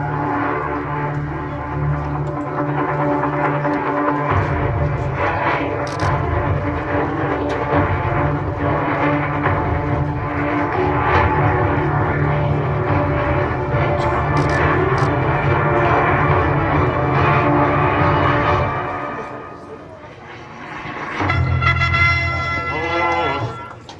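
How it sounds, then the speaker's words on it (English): MV-22 Osprey tiltrotor aircraft flying inbound during a Marine air-ground task force demonstration at the Iwakuni Friendship Day 2018 air show, a loud, steady rotor and engine drone that holds for most of the time, then drops briefly and surges again. "If you look to the right and in front of you, here comes the Osprey."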